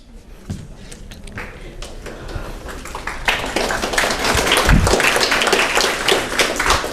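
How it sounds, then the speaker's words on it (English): Applause from an audience at a community event with law enforcement, building from scattered claps into dense, steady clapping that grows louder and fills the room. "Thank you for the clap."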